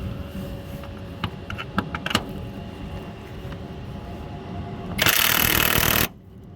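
A ratchet with a 16 mm socket works on the front seat bolts of a Renault Laguna 2 inside the car, giving a few scattered metallic clicks, then a loud burst of fast ratcheting for about a second.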